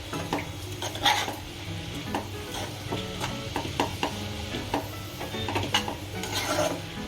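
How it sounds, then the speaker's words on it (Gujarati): Masala for a Gujarati radish greens (mooli bhaji) curry being stirred in a pan, giving repeated scraping strokes and soft clatter of a spoon against metal, with a faint sizzle underneath and no talking. "આ મસાલો થઈ જાય એટલે એક વખત પાછું એને હલાવીને આ રીતે હલાવી કાઢવાનું"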